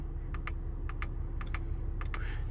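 Buttons pressed to enter a Ghost 2 immobiliser PIN in a 2017 Maserati Levante, about eight short, soft clicks in pairs spread over a few seconds inside the car, over a steady low engine or cabin hum.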